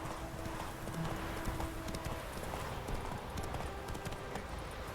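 Geralt's horse Roach trotting in The Witcher 3: Wild Hunt video game, a steady clip-clop of hooves over a dense game soundscape, with a faint neigh mixed in.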